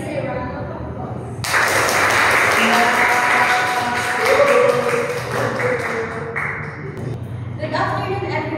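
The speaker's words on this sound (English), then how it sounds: "let's give Clarice a round of applause" An audience applauds Clarice before her TED-style talk, with dense clapping that starts suddenly, holds for several seconds, then breaks off, leaving scattered claps and some voices.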